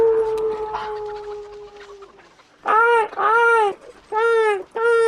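A voice imitates a crow with loud, harsh, drawn-out squawks, four bursts in a row after a steady background hum fades.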